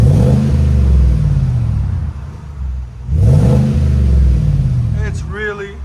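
A car engine revs loudly through its stock exhaust before a Flowmaster Signature Series dual muffler swap, with two sustained deep revs separated by a brief dip to idle. A voice cuts in near the end.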